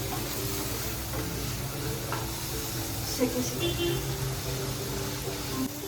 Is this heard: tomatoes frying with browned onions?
yes